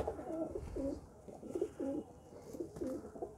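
A pigeon held in someone's hand gives soft, low repeated coos in a quiet, close, rhythmic series of several throaty calls.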